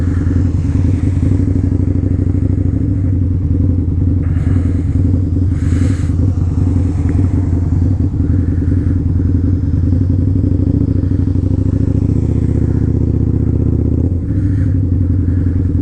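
A Harley-Davidson motorcycle rides through a blizzard on wet roads, its loud, low engine rumbling steadily throughout, mixed with road clatter and wind noise.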